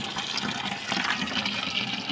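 Water gushes steadily from a newly fitted bibcock tap on an outdoor wash basin, a close, continuous splashing flow.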